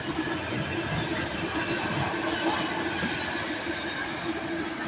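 A Crossrail train at Milton Keynes Central gives a steady, moderately loud rumble of wheels and motors as it rolls along the track, with no clear talk.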